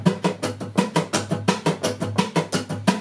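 Electric or acoustic guitar strummed in a steady sixteenth-note country western rhythm, bass notes on the lower strings alternating with higher top-string strokes, close and even with no voices.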